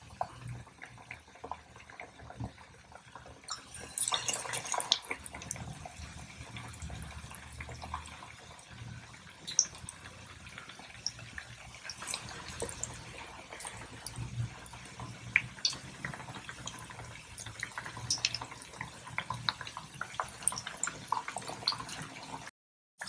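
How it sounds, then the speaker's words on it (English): Raw banana bajjis, sliced banana pieces dipped in batter, sizzling and bubbling in hot oil with a steady crackling hiss and occasional splashy pops, close and moderately loud throughout. "Oil is hot. We are now ready to fry the bajjis."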